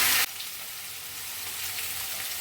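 Potato and papaya pieces fry in a pan for a fish curry, making a steady, even sizzling hiss after a brief loud burst at the start, with no speech.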